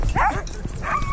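Sled dogs in Alaska giving short excited yips and whimpering barks at close range, a brief burst of two vocalizations.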